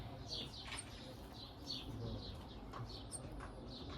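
Champion racing homing pigeons coo softly in their loft, faint low murmuring calls with occasional chirps and light flutter over a quiet background.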